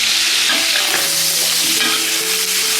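Bay leaves, bean paste, soy sauce, scallion, ginger, garlic and Sichuan peppercorns sizzle loudly in a hot wok while being stirred, a constant crackling fry with faint tonal scrapes throughout.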